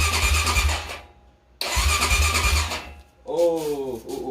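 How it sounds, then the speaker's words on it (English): A rebuilt Honda 400ex ATV engine cranks and fires twice with choke on and no exhaust fitted, each loud burst running about a second before cutting out, followed by a brief higher whining tone. "this is going to be a attempt of the first startup after doing the rebuild"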